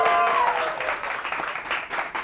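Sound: audience cheering

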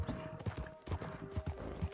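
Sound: horse hooves in a video game

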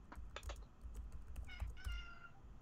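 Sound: cat meowing

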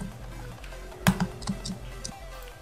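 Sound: hard typing on a computer keyboard

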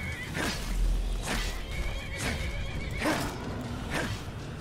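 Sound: horses neighing in video game Skyrim

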